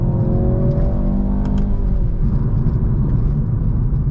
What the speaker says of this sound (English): Super quick, and it sounds great on the both upshifts and the downshifts.